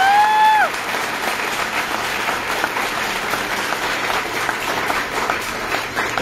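Young audience at a talk in Jabalpur claps steadily in a dense, even round of applause, with a brief tonal sound at the very start before the clapping carries on alone.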